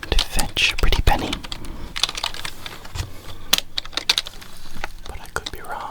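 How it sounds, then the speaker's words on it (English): Clicky computer keyboard typing in a soft ASMR setting, rapid irregular clacks and taps running throughout at close range, with faint whispery breaths or soft voice traces in places. "clickety-clackety keyboards are quite nice to listen to for ASMR"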